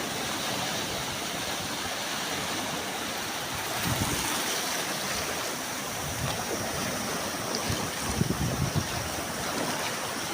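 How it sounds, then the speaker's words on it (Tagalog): Strong water current rushes out to sea at a nature park, a steady broadband roar of flowing water and surf, loud and constant with no voices. "malakas yung current ng tubig papunta doon sa laot"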